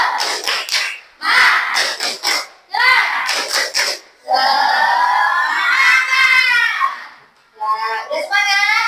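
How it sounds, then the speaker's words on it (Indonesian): A fifth-grade class performs the 'tepuk semangat' chant: bursts of rhythmic group clapping with shouted syllables, then a long, loud, excited cheer from the children, followed by a final short shouted burst. "Tepuk semangat."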